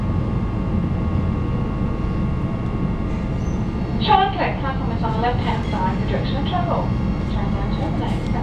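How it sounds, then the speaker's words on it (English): Electric suburban train pulling into Shorncliffe station, a steady loud rumble throughout with squealing tones near the end, someone talking over it. "Shorncliffe station, here's the train"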